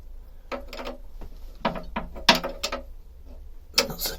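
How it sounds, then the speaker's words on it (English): A spanner turns on a bolt on a narrowboat's cross member, giving a series of close metallic clicks and ratcheting taps in short bursts with pauses between them. "I put a spanner onto the cross member there."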